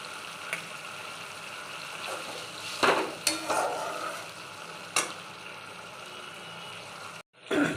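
Potatoes tipped into hot oil already holding whole chillies and turmeric, then stirred: a steady close sizzle with sharp scraping and clattering bursts from the stirring utensil against the pan, stopping abruptly near the end.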